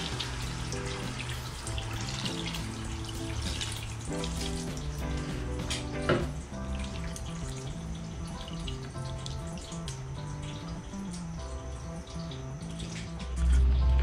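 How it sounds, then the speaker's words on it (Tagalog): Water is poured into a pot of Pampanga-style pork asado, a steady splashing and running-water hiss that lasts throughout under continuous background music. "Ngayon, lagyan na natin ang tubig para papalambutin natin siya."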